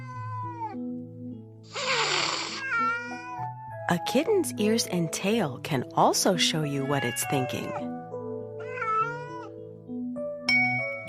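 A kitten mewing in bursts and chirps, with someone talking over and between the sounds.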